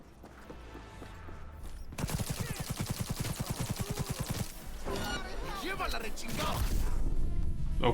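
A motorbike blows up in Cyberpunk 2077, a burst of rapid, loud crackling pops lasting a couple of seconds, followed by scattered crashes and rumbling noise that builds toward the end.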